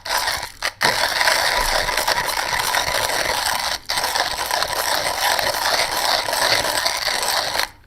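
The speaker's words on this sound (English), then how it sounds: "I'm grinding at on the Comandante a 30" A Comandante hand coffee grinder crushes beans at a medium-coarse setting, giving a close, continuous ratcheting crunch broken by two brief pauses in the cranking.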